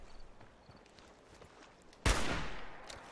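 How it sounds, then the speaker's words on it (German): A single loud gunshot cracks out in modded Fallout 4, sudden and close with a decaying tail, after a stretch of faint footsteps and quiet in-game ambience. "Jeder Schuss muss sitzen."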